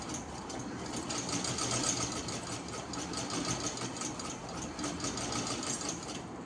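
A sewing machine stitches a garment neckline at a slow pace, its steady whir and rhythmic needle ticking continuing throughout at close range, with no voices.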